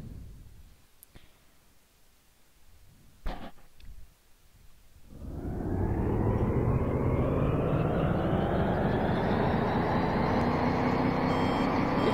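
A broken-down bus engine cranks and catches after a quiet stretch with a few brief knocks, then settles into a loud, steady, continuous rumble that holds to the end.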